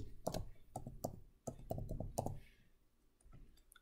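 Keys being typed on a computer keyboard in an Excel spreadsheet, a few quiet separate clicks and short clattering bursts with gaps between them, close to the microphone and alone.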